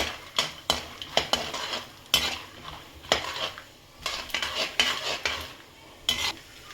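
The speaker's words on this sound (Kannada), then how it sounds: "ಈಗ ಫಸ್ಟಿಗೆ ಕಡಲೆ ಬೀಜ ಹಾಕ್ತಾ ಇದ್ದೀನಿ. ಇದು ಅರ್ಧ ಫ್ರೈ ಆಗಬೇಕು." Peanuts being stirred in a frying pan while making pudi avalakki, with repeated scraping and clinking of a spoon against the metal pan over a soft sizzle, irregular and close.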